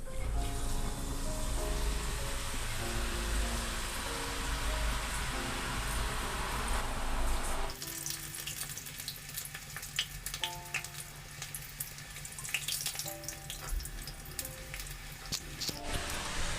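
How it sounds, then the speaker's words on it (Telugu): Chana dal murukku deep-fry in hot oil with a dense, steady sizzle and crackle, loud and close, that shifts midway as the frying settles into a lighter bubbling hiss. "డీప్ ఫ్రైకి ఆయిల్ వేడైంది. ఆయిల్లో మురుకులు వేసుకుందాము."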